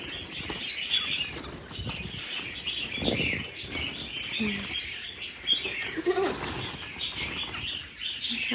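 Caged red-whiskered bulbuls of the 'mơ' colour mutation flap their wings in repeated close, rustling flurries, mixed with scattered chirps and faint background noise.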